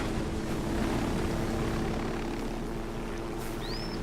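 Helicopter in the Ghost Recon Wildlands video game, a steady rotor and engine drone holding at an even, moderate level throughout, with no talk over it.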